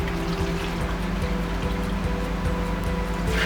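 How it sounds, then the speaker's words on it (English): A wet rag wipes glue off a wooden drum shell in a workshop, giving a soft continuous wet rubbing and swishing with small irregular strokes, heard close and alone. "And we just wipe all the glue off."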